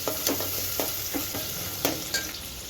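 Chopped onions and green chillies fry in a pan over high flame for a spinach curry, a continuous loud sizzle punctuated by regular scraping strokes of a spoon stirring the pan.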